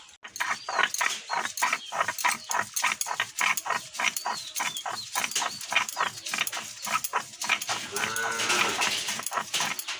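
Grated coconut being ground into a paste, heard as a fast, regular run of sharp scraping and knocking strokes, close and fairly loud, that keeps going without a break.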